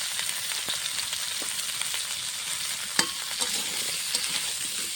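Cauliflower seasoned with salt and turmeric fries in a pan with a soft, steady sizzle, broken by light stirring scrapes and one sharper utensil clack partway through.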